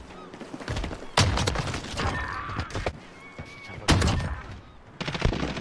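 Bursts of gunfire in a competitive search-and-destroy shooter match, sharp loud shots clustered in a few separate volleys with game noise between them.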